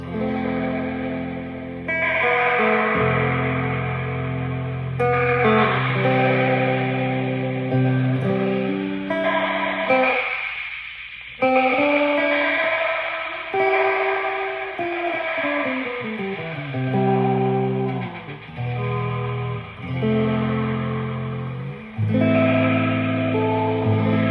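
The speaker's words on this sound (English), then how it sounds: "a high regeneration delay with some pops, with some jitter" Distorted synth tones repeat through a heavy echoing delay that keeps feeding back, with warbling, jittery pitch shifts and occasional pops, loud and continuous.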